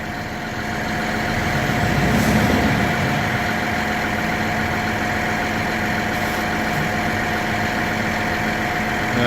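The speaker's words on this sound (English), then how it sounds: "And here's the truck coming in now." A cement truck engine idles steadily at a residential construction site during a concrete wall pour, a loud, continuous low rumble with a brief swell early on.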